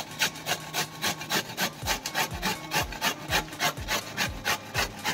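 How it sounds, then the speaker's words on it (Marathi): Peeled bottle gourd grated by hand for parathas, a quick regular run of rasping strokes, close and clear with no talking. "आता आपण किसून घेऊया दुधी."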